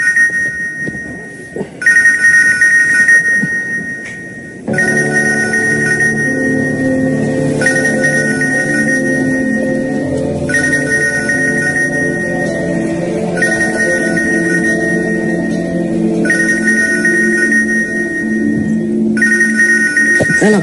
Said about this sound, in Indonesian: HP gue bising kali tuh, Dur.